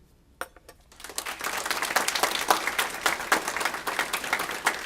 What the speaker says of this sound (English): Dr. Markarian, today we applaud you.